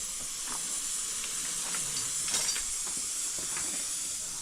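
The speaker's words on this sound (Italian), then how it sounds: "Guardate, c'è anche una pentola a pressione" Steady hiss of steam escaping from a pressure cooker boiling macaroni at high altitude in the Himalayas, a continuous close hiss with no talk over it.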